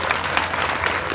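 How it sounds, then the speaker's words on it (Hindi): Dense, steady clapping from a large audience at a Bageshwar Dham religious gathering in Korba, Chhattisgarh, filling the whole short stretch at an even level with no speech on top. "ताली बजाओ उसको।"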